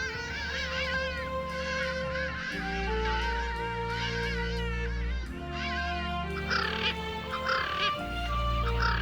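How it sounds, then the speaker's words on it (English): Hadada ibis calling loudly across African plains in a series of harsh, honking cries that rise and fall over a low steady drone, with several overlapping bursts near the end. "There's no doubt why it's called the Hadada ibis."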